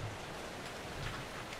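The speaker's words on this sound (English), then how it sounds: "so it's raining blood, all this water's dirty" Steady rain pours down in the horror video game Outlast 2, a dense even hiss of falling water with no voices over it.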